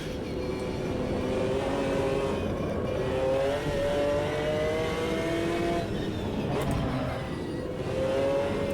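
A GT1 race car roaring around Spa in the Automobilista 2 racing game, its engine droning steadily and loud, pitch rising and falling through gear changes and revs.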